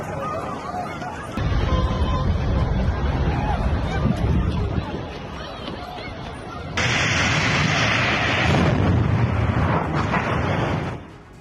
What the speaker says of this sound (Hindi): ग्रोजनी में गैस स्टेशन में ये बड़ा धमाका